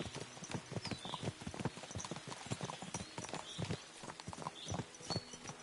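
Horse hooves clip-clop steadily on the ground in the video game Kingdom Come Deliverance 2, an even walking rhythm of many quick, close, crisp hoofbeats with faint background ambience.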